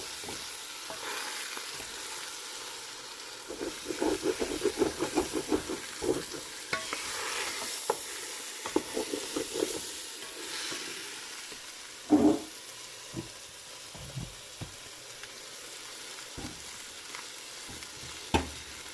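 Tomato paste sizzles in a pan for chicken bukhari rice while a spoon stirs it, making repeated scraping strokes over a steady hiss, with a sharper clatter partway through.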